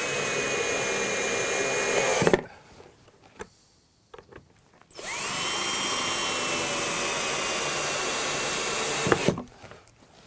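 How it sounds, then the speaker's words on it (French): A cordless screwdriver drives a screw through a gutter hook into a roof fascia board, with two loud whirring bursts separated by a short pause and small clicks. "Donc je le visse, puisqu'on peut visser directement sur le bandeau."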